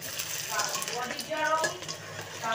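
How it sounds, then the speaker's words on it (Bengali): Vegetable Manchurian balls frying in oil in a pan, a moderate crackling sizzle with a few light clinks of utensils, heard up close. "তাহলে এটা দিয়ে দিয়েছি, এটা ভাজা হোক।"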